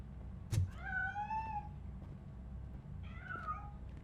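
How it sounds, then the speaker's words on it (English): A cat in the video game Robocop Rogue City gives two clear, drawn-out meows, the first longer and the second shorter, heard close against a low, steady background hum. "That cat must be hiding inside."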